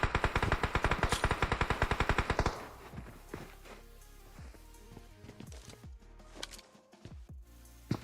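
Rapid automatic gunfire from a team-based shooter in an underwater-themed semifinal match, a loud sustained burst of evenly spaced shots for about two seconds, then scattered quieter shots, footsteps and in-game clatter.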